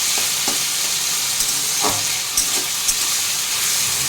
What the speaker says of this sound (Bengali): আলুটা একটু নেড়ে চেড়ে নিয়েছি